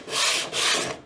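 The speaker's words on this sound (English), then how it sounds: "And I do a little bit of extra sanding right there." Sandpaper is rubbed by hand over a painted wood piece in two steady back-and-forth strokes, a close, dry rasping sound with a short pause between the strokes.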